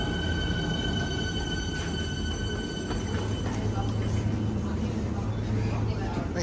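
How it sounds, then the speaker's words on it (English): A train pulling into a Melbourne suburban station, a steady rumble of wheels and rail noise with faint squeals and high tones, fairly distant and continuous, with people talking nearby. "Oh, there's trains are here coming."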